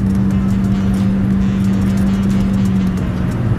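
A car rolls along a gravel country road past forgotten farms, its engine a steady low drone with a constant tire rumble throughout, close and continuous without a break.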